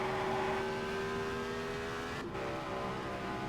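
A Novi race car engine screams at a steady high pitch on a long straightaway at Trenton in a racing video game, loud and continuous with a brief dip midway, no voices.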